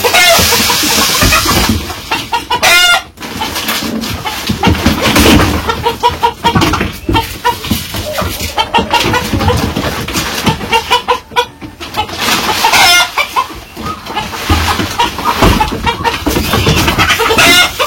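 Chickens cluck repeatedly, close by and loud, with busy overlapping calls and some background noise running throughout.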